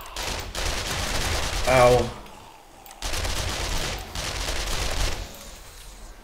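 Sustained automatic gunfire from the zombie survival game 7 Days to Die (Alpha 20), with loud rapid bursts broken by a short pause, and a brief voiced exclamation over the shooting.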